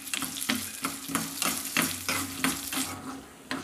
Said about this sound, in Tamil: அதில் வந்து நம்ம எடுத்து வச்சுருக்க சுண்டக்காவை போட்டு நம்ம நல்லா பொரித்து எடுத்துடலாம்.